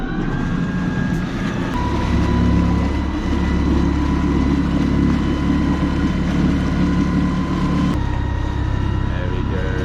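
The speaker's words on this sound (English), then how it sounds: "I'm going to check the electric drive in the acceleration test to see how long it takes to get to 3 knots" A boat driven by a 10 kW electric motor accelerates toward 3 knots, giving a steady low hum and whir with water rush, one sudden shift in tone partway through, and nobody talking.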